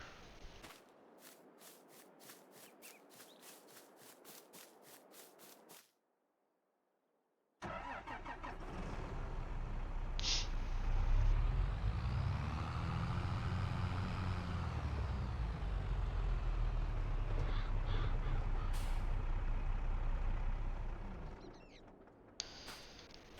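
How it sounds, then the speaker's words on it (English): In Farming Simulator 22, a tractor engine cranks and catches after a short silence, then revs and rumbles loudly as the machine drives off, the drone rising and falling before it settles and stops, with a few clicks at the end. "Let's move the tractor."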